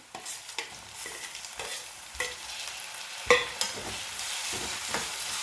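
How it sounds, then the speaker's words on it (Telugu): Tomatoes going into a pan of frying onions and ginger-garlic paste for aloo curry, a continuous hiss and sizzle broken by repeated stirring scrapes and a sharper knock midway. "ఉల్లిపాయలు వేగిపోయాయి, అల్లం వెల్లుల్లి పేస్ట్ కూడా వేగిపోయింది. ఈ టమాటాలు వేసేసుకుంటున్నాం"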